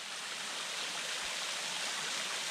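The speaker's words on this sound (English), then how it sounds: "we have made it to our first waterfall on this trail" A waterfall just off a hiking trail in Big South Fork pours with a steady, broad rushing hiss, heard at a moderate distance with no voices.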